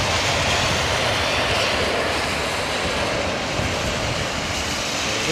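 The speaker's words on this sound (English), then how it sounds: "Royal Air Maroc 737 Max." A Royal Air Maroc Boeing 737 MAX with CFM LEAP engines landing on a wet day at London Heathrow, a steady, dense jet roar with a hiss of wet air, constant and fairly distant with no voices.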